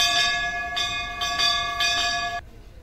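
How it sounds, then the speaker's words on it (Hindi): Temple bell struck by a hand-sensor machine, loud ringing metallic strokes in a quick even series of about four, each ring overlapping the last before cutting off abruptly. "जिससे हाथ सामने लाने पर घंटा बजने लगेगा"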